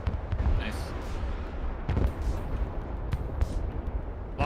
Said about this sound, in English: Lots of cruise missiles coming in now.